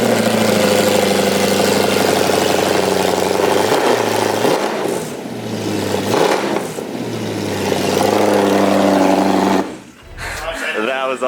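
An Audi R8 engine running with its stock exhaust removed roars loudly and continuously, revving up and down in several swells before cutting off near the end, with people talking underneath.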